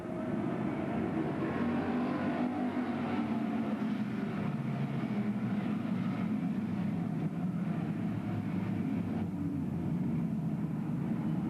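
Pure stock race cars roar around Bedford Speedway in 1994 after the green flag, a continuous loud engine drone from the pack with shifting pitch, a constant wash with no clear breaks.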